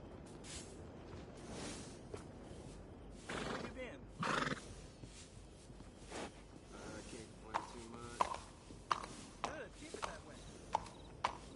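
A horse neighs and whinnies in a video game over a busy ambient background, with scattered clopping and knocking sounds later on.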